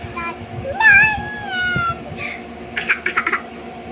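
A cat gives one drawn-out, wavering meow, followed by a few short, higher chirpy bursts, fairly close against faint background noise.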